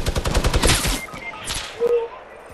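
Fortnite semi-auto gunfire sounds as a fast, loud burst of sharp shots at the start. A couple of fainter shots follow after a short pause.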